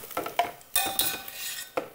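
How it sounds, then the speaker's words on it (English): Toasted chili and onion being scraped out of a pan into a blender, giving a series of close metallic scrapes and clinks from a utensil against cookware, several sharp strokes in an irregular rhythm with no talking. "So I'm going to scrape all of this now into a blender"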